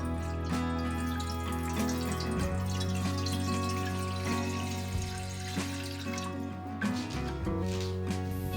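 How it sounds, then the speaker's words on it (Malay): Water poured into a cooking pot while preparing pandan coconut-milk agar-agar, a soft, steady trickling and dripping that stays faint beneath prominent background music. "Masukkan 3 cawan setengah air."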